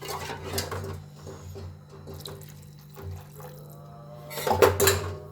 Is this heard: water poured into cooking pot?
yes